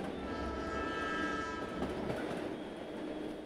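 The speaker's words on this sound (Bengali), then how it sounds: "ট্রেন প্ল্যাটফর্ম থেকে বের হয়ে গেল বাঁশি বাজিয়ে।" A train pulls out of a station platform amid city bustle, its long whistle sounding steadily over a rumbling, rattling wagon roar that continues throughout, moderately close and without speech.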